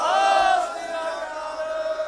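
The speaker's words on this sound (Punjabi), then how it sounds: "ਰਾਣਾ ਇੰਦਰ ਪ੍ਰਤਾਪ ਸਿੰਘ ਜੀ ਇੱਕ ਵਾਰੀ ਜਕਾਰੇ ਦੇ ਨਾਲ ਪ੍ਰਵਾਨਗੀ ਦੇ ਦਿਓ ਬੋਲੇ ਸੋ ਨਿਹਾਲ" A large crowd at a political rally in Sultanpur Lodhi, Punjab, roars the Sikh jaikara battle cry in unison, a loud sustained collective shout.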